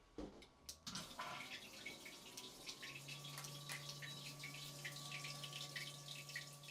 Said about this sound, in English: or push it to flush it